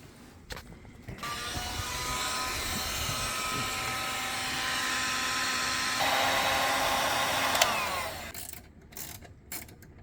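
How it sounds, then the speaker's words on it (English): Heat gun shrinking heat shrink tubing during a Chevy tow mirror wiring job, a steady loud blower whine that runs for about seven seconds, shifts pitch midway, and then cuts off, followed by light handling clicks. "I need a heat gun? It looks like it's heat shrink."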